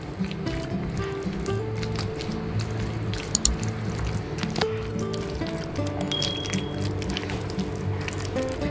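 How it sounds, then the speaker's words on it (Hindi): Tuna sandwich filling with black pepper and salt is stirred in a bowl, giving a continuous wet squishing and sticky mixing sound close up, with no talking. "अब इन चीजों को अच्छी तरह मिक्स कर लें।"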